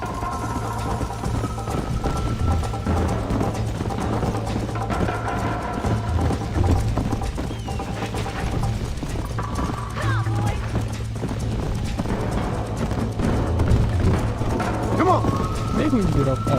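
A horse gallops in Red Dead Redemption, hoofbeats drumming steadily and close for the whole stretch beneath constant spoken dialogue and a background music bed.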